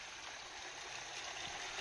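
Mountain water flowing steadily down a hillside channel during light rain, a continuous soft rushing wash heard close and alone.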